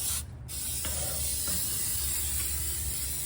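Oil being sprayed to coat the grates of a new Lone Star Grillz Santa Maria grill during seasoning, a steady close hiss running the whole time with a brief pause near the start.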